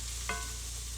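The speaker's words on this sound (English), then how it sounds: "figured I would just fry up some sausage gravy" Sausage gravy frying in a pan, a faint steady sizzle with one brief clink of a utensil, heard close in a quiet kitchen.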